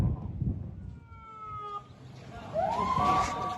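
An ambulance siren wails as it arrives at Al-Aqsa Hospital in Gaza, a rising, sweeping tone that swells loudly in the final second over street noise and background chatter.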